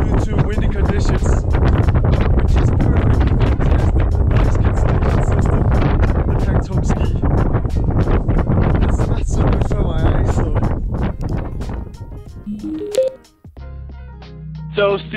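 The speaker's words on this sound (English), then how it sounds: "We just lost the lifts due to windy conditions." Strong, continuous wind buffets the microphone while standing on the Hintertux Glacier, a loud roaring rush with gusts for most of the stretch, dropping away near the end into a quieter, steadier tone.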